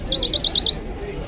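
Songbirds for sale at a Saturday bird market, giving a quick run of about six bright, high chirps in the first part, heard fairly close over a low murmur of market background noise.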